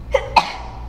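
Two short, sharp bursts a fraction of a second apart, an explosive sneeze-like expulsion of breath, close to the microphone.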